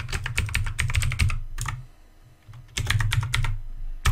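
Typing a fake email and password on a computer keyboard: close, crisp key clicks in quick bursts, with a short pause midway before another flurry of keystrokes.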